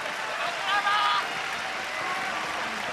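An arena crowd at a mixed martial arts event cheers Kazushi Sakuraba, a loud, continuous roar with a brief swell of shouts, heard from a distance and steady throughout.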